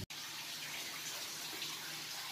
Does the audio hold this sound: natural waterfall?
yes